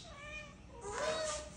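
A cat meows at home during an early-morning breakfast feeding, giving a shorter meow and then a longer, louder one close by, with soft human voices in the background.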